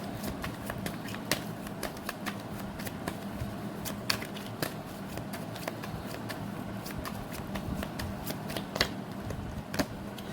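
Tarot cards being shuffled continuously for a reading, a steady run of crisp riffling flicks and soft card slaps at close range that carries on throughout without talk.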